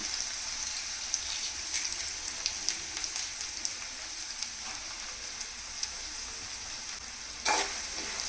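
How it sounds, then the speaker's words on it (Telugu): Onions, green chillies and curry leaves frying in a pan for an egg curry, a soft steady crackling sizzle with scattered pops and faint stirring, fairly quiet throughout, no talk. "ఇవి కొంచెం గోల్డెన్ బ్రౌన్ కలర్ వచ్చే వరకు ఫ్రై చేసుకోవాలి."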